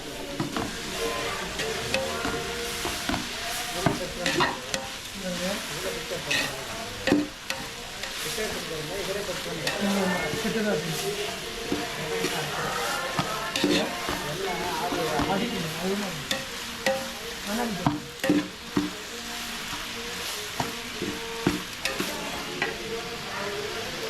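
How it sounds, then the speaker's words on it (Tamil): Two kilos of onions with curry leaves sautéing in a large pot for a drumstick kara kulambu meant to feed forty, giving a steady close sizzle broken by repeated scraping stirs, with no talk. "2 கிலோ வெங்காயமும் கொஞ்சம் கருவேப்பிலையும் போட்டு ஒரு பெரிய பாத்திரத்தில் வதக்கிட்டு இருக்கோம்"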